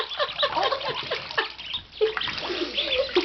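Water splashes and sloshes in a bathtub, close and lively, in bursts with a brief lull in the middle.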